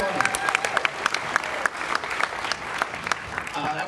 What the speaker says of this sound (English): a nice round of applause for Joey